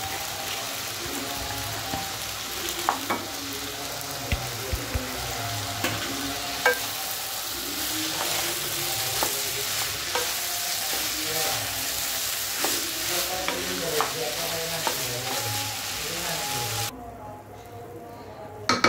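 Parboiled long-grain rice crackles and sizzles in a hot pan while a spatula stirs and scrapes it with scattered ticks and taps; steady, close frying that drops off near the end, with no clear speech.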